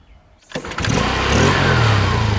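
A moped engine starts up and revs, rising from quiet to a loud, steady buzzing drone held close by, with no talk over it.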